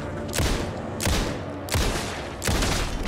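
Four loud, booming Alan Wake gunshots fired at a steady pace, each with a sharp crack and a short rumbling decay.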